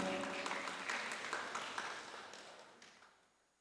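Applause rings out in a church service, a crowd clapping together in a steady wash that fades away over a few seconds.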